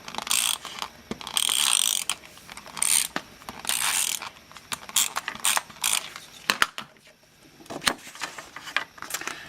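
Adhesive is applied to paper for a tag card with a handheld tape runner, a run of clicking, ratcheting strokes with short pauses between them, close and fairly loud with no talking.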